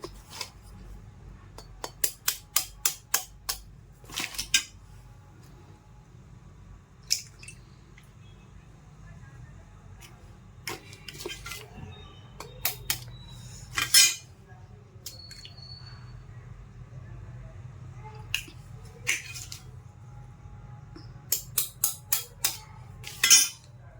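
Three eggs are cracked into a bowl. Sharp taps and cracks come in quick clusters separated by quiet stretches, with faint squishy handling sounds between them.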